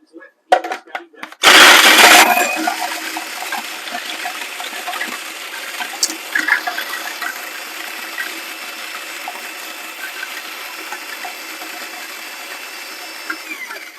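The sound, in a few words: food processor grinding biscuits into fine crumbs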